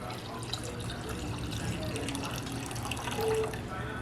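Water poured into a stainless steel bowl to make pickling brine for canned eggs, a steady close splashing pour lasting several seconds, with a voice speaking briefly over it.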